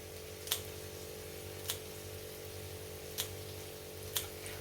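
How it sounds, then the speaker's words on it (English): Kitchen scissors snip kale and fresh herbs, four crisp separate cuts spaced about a second apart, close and quiet over a low steady background hum. "I chop my kale and most of my herbs up with scissors."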